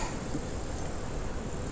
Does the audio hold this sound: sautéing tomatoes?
no